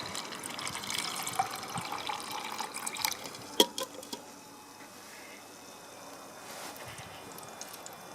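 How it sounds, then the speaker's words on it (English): A small water pump draining water poured back into a container, a soft watery trickle and splashing that comes and goes, busier in the first half with a sharp clunk midway, then quieter. "And if I pour the water back in, it'll pump it out again."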